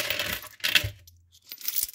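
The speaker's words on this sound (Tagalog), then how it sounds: "Ako po, pinupulot ko po ang mga barya na yan." Coins drop and clatter close by, sharp metallic clinks in two quick bursts separated by a brief lull, with a low thud between them.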